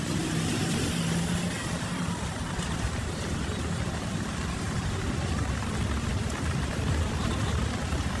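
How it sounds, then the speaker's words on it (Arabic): Heavy rain pours at Masjid al-Haram in Makkah on a January night, a dense, loud, unbroken hiss with a low rumble beneath and no clear talk. "أمطار غزيرة يا جماعة ما شاء الله"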